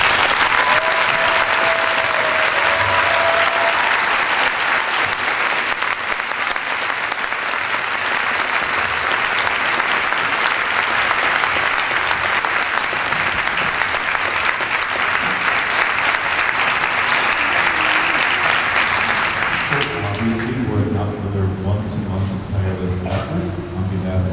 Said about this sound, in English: we give them a special round of applause